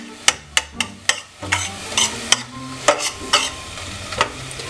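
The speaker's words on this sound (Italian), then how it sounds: "Il fondo della pentola incomincia a rosolare, a appiccicare un po'" A spoon scrapes and stirs soffritto in a pot with a soft sizzle underneath, a quick run of clacks followed by slower stirring.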